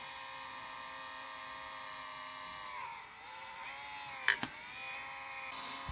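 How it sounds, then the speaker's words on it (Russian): The cooling fan inside an Interstep AI 150 power inverter runs noisily, a steady high-pitched whine with a drifting tone and a brief rattling spike, fairly quiet and without speech. "Вентилятор крутится с каким-то шумом."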